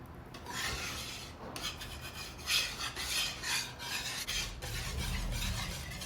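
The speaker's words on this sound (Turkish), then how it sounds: "mısır nişastası ilavesi yapıyorum tekrardan kıvam alana kadar çırpıyorum" Cheesecake batter is whisked again after cornstarch is added, a steady run of close, rhythmic scraping and rubbing strokes against the bowl with no talking.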